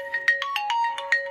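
A phone ringtone plays a quick, bright electronic melody of short pulsing tones over a steady held note, close and clear, with no voices.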